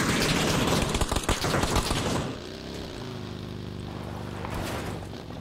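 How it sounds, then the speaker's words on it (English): Rapid bursts of automatic gunfire rattle in a PUBG match on Miramar, loud dense volleys for two seconds, then give way to a droning aircraft propeller that lingers afterward. "Hear that shooting on, watch that to our left."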